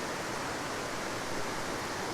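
Hatch Brook waterfall, heard from a distance among rocks, gives a steady, even broadband rush with no breaks, fairly soft and alone without voices.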